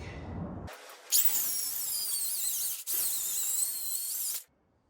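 Cordless mill saw cutting through wet timber: a bright, loud whirring cut starts after a brief quiet lead-in, dips once mid-cut, resumes, then stops abruptly near the end.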